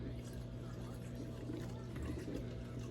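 Water draining steadily out of a tank with its power switched off, a quiet continuous trickle and gurgle with a low hum beneath it.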